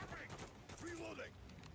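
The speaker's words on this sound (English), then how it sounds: "Seriously, he's using the shotgun." Shotgun blasts in a video game trailer sound as quick, quiet bursts of gunfire mixed with game dialogue, all low in level and brief.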